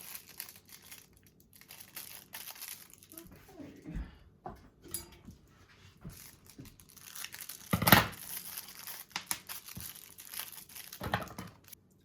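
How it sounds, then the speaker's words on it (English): Crinkly paper wrappers being torn and peeled off small peppermint candy canes, close and fairly quiet, in scattered bursts of rustling and tearing with a few sharper rips, no talking. "I unwrapped 18 of the small candy canes"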